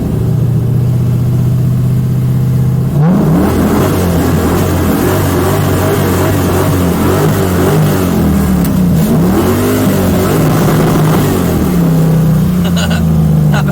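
An LS-swapped Mazda Miata's V8 rumbles steadily, then revs higher and surges with rising and falling pitch as the car spins on icy snow, engine loud and close throughout.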